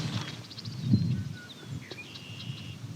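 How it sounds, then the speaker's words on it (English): An eastern meadowlark sings clear, slurred whistles far off in open farmland, faint behind low rumbling background noise and occasional rustling. "You can hear the eastern meadowlark singing in the background."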